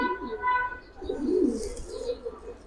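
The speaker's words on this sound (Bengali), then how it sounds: "দুইটাই নর কবুতর ভাই।" Two male pigeons coo in low, rolling, throaty bursts, close by, repeating in uneven phrases with a few faint chirps around them.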